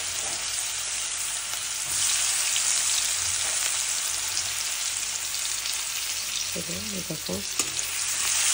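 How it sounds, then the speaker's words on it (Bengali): Onions fry in hot oil in a wok, giving a continuous, even sizzle with occasional stirring scrapes; a voice speaks briefly near the end. "এবার পেঁয়াজটাকে একটু লাল লাল করে ভেজে নেবো"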